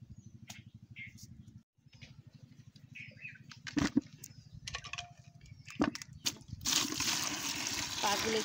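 Hot water is poured over chicken feet in a home kitchen while preparing a chickpea-lentil chicken liver and feet curry. Scattered clatters and small splashes give way to a steady, close rushing pour in the final seconds over a low, rumbling background.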